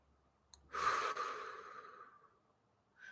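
A single deep breath, a long audible exhale that fades slowly after a quick intake, close and fairly soft in an otherwise quiet room.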